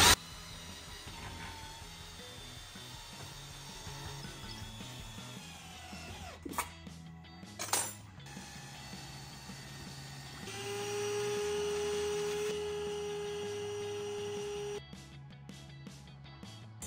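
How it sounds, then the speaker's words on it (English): A power drill whirs steadily for several seconds drilling a pilot hole in a floor transfer plate for radiant hydronic heated floors, with mechanical clicks and bursts before it, then stops abruptly. "So I'm going to drill the pilot hole."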